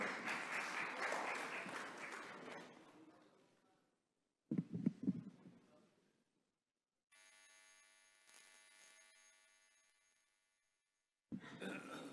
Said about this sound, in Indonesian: Sekali lagi kita beri tepuk tangan yang meriah